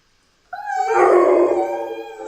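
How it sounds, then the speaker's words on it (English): A dog, one of a pair named Teddy and Nico, lets out a single rising howl lasting nearly two seconds, close and fairly loud, starting with a thin whine and swelling into a full, wavering tone. "Do you howl into the air like that?"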